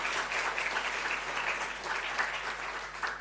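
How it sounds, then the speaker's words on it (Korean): Church congregation applauding to welcome visitors at a Sunday worship service, a steady moderate clatter of many hands throughout, somewhat distant and soft. "박수로 뜨겁게 환영하겠습니다"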